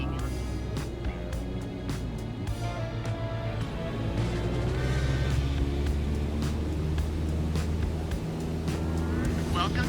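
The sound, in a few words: airplane engine at full throttle climbing, Microsoft Flight Simulator video game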